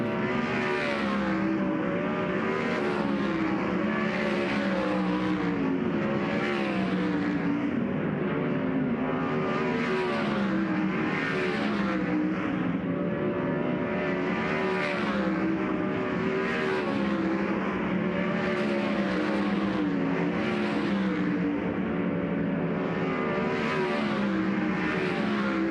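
Sprint cars roar around a dirt oval at Central Arizona Raceway during a High Limit Racing hot lap session, a loud continuous engine drone rising and falling in steady waves as the cars circle past.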